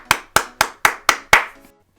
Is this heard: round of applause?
yes